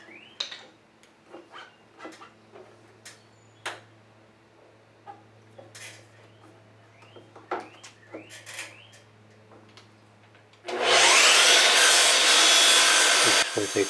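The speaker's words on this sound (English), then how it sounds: "we're going to do a 45-degree cut on the other end just to trim it down just a little bit" A loud power saw makes a 45-degree cut through crown molding near the end, a sustained near whine after a run of soft knocks and handling taps.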